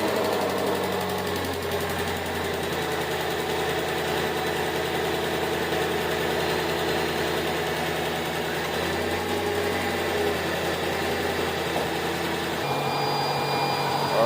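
Mercedes-Benz CL500 with the M113 engine running at a steady, close idle, a continuous even hum and whir with a slight shift in tone near the end; no one speaks.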